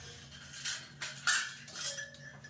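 Dishes and cutlery clink and clatter in a few bright bursts, close by, with a low steady hum underneath and no talking.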